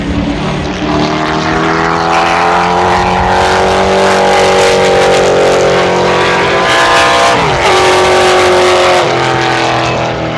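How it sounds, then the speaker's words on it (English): Roaring vintage race car engines sweep past at speed at Canadian Tire Motorsport Park, pitch rising then dropping as they pass, loud and continuous with no talking. "You can hear these guys coming from way over there."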